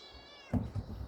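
A cat meows once, close and clear, in a home in Sweden where eight cats live; a faint, rumbling caterwaul-like tone follows in a quiet room.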